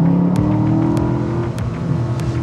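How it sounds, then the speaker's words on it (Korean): An Aston Martin DBX luxury SUV engine drones loudly and steadily from close by, its exhaust note holding a low rumbling tone with slight rises in pitch. "그리고 배기 사운드"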